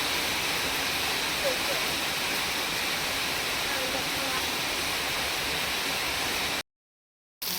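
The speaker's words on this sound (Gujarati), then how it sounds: "તો ગાઈસ ધોધમાર એવો વરસાદ પડે છે" Heavy rain pours in a dense, even roar of hissing noise that stays steady for several seconds before cutting out briefly near the end.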